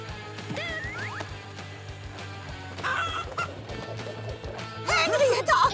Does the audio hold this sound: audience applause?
no